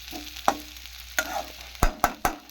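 Mango and yogurt dish cooking slowly on a low flame, soft faint sizzling broken by several sharp clinks and scrapes of a stirring utensil against the pan.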